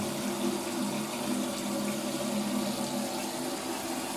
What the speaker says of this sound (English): we have full strength water supply